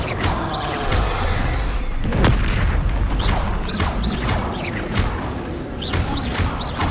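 Repeated booming blasts of the Bombarda explosion spell in Hogwarts Legacy, several heavy impacts with crackling debris and whooshing effects layered over game noise, loud and close.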